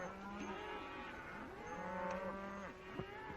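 Cattle low repeatedly on a 1930s western ranch range, several long drawn-out moos overlapping one another close by against a steady outdoor hiss.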